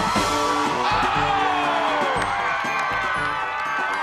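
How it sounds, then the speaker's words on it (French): Lively crowd cheering, whooping and shouting encouragement at a community gathering in St-Côme, loud and continuous, with a rhythmic thumping beat underneath. "tout le monde qui applaudit, qui encourage"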